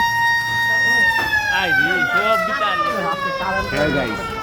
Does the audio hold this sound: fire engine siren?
yes